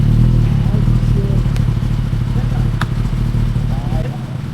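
A friend's sport motorcycle, a Kawasaki ZX-10R or Z900, runs with a loud, steady low engine drone and faint clattering, fading slightly toward the end, with people's voices in the background.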